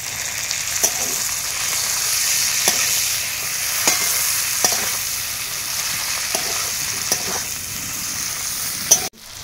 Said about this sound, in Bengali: টমেটো দেওয়ার পরে একটু কষিয়ে নিয়েছি